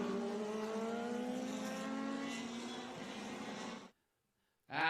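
Vintage race cars, among them a Swift 014 Atlantic and a Pro Mazda, race at Mid-Ohio with a steady, droning engine note that rises slowly in pitch, then cuts out briefly before another engine returns.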